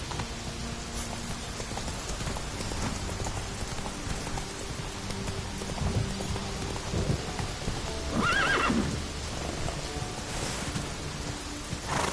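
Roach, a horse in The Witcher 3, gallops with rhythmic hoof clops through rain and rumbling thunder, with a whinny near the middle, and no talk over it.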